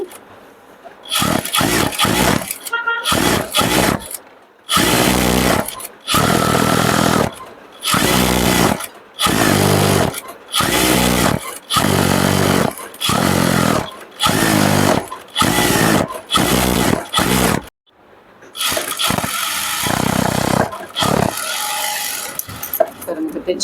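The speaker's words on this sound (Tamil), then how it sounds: "இந்த ஃபோல்டுக்கு இப்படி ஒரு ஸ்டிச்சஸ் போட்டுடலாம்" A sewing machine runs in repeated loud bursts while stitching a fold on a skirt, each burst of whirring stitching separated by short pauses, with a longer steady run at the end.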